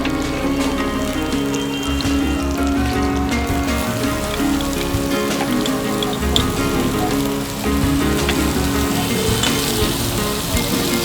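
Chopped onion and garlic frying in a pan for chicken lakacika, giving a continuous dense hiss and crackle like steady rain, with a low hum underneath and the occasional scrape of stirring.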